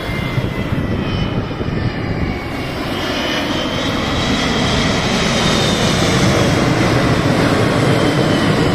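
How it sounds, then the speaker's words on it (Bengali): A small airplane flies low overhead, its engine a loud, steady drone that grows fuller as it passes close above, with no voices. "ছোট বিমান"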